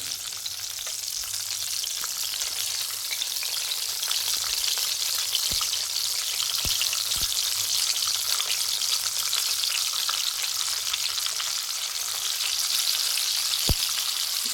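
Seeds crackle in hot oil while tempering for tomato dal: a dense, even sizzle throughout, dotted with scattered sharp pops, with no voices.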